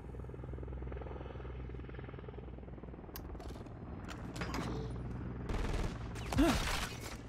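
A helicopter drones steadily in the Call of Duty: MW3 multiplayer game, with scattered gunshots and short bursts of gunfire cutting through, growing busier toward the end.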